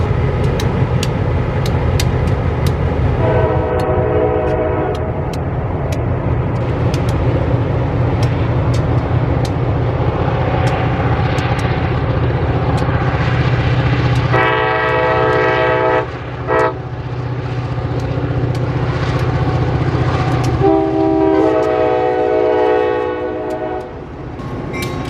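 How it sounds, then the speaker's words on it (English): A passing train hauled by first-generation General Motors diesel locomotives in Florida, its steady heavy rumble and clatter punctuated by several loud multi-tone horn blasts, some long and some short, heard close and without talking. "the railroad gets the job done with 4 first-generation General Motors diesel locomotives"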